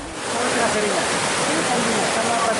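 Steady, broadband rushing of the Dewi Rengganis waterfall near the Jember–Surabaya route fills the whole stretch, loud and unbroken like a continuous roar of falling water.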